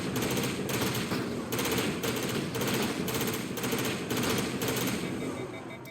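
Rapid automatic gunfire in Mass Effect Legendary Edition, repeated bursts of fast shots in a steady rhythm, loud and close, with a few short pauses between bursts and no talk over it.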